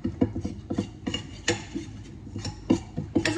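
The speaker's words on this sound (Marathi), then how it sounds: "आपल्याला छान तुपामध्ये थोडंसं भाजून घ्यायचंय" Ragi flour being stirred and roasted in ghee in a pan, a spoon scraping and tapping against the metal in an irregular rhythm, close and moderately loud with no talking.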